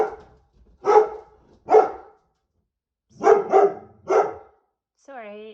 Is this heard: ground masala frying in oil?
no